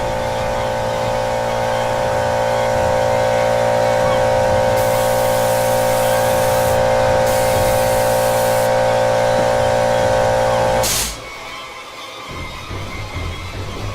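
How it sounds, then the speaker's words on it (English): A noisy air compressor feeding an airbrush used to paint a Savini Jason hockey mask holds a loud, steady droning hum with a hissing layer for about eleven seconds, then shuts off, leaving quieter room noise. "Sorry for the compressor."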